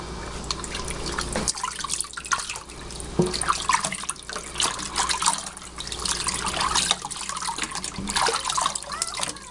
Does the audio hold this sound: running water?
yes